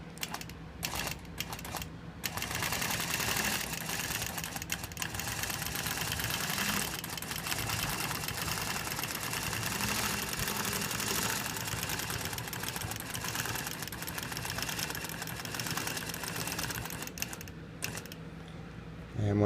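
A sewing machine stitches a Baptist Fan quilt pattern with a continuous dense mechanical whir and rapid ticking that runs almost without a break, while a person talks over it.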